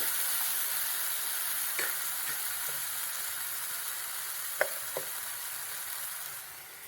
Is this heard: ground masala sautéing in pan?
yes